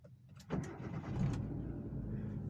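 Small Kia Picanto hatchback engine running with low, steady rumble after a soft onset, fairly quiet and smooth with little vibration noise, no talking.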